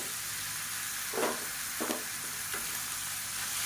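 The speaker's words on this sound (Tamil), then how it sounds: "இந்த தக்காளி நல்லா மசிஞ்சு வர அளவுக்கு வதக்கிக்கலாம்" Tomatoes and onions sauté in a pan for a paneer gravy, a quiet continuous sizzle broken by a few short scraping stirs of a spoon against the pan.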